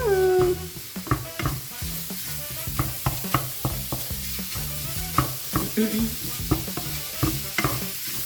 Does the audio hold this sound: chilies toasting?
yes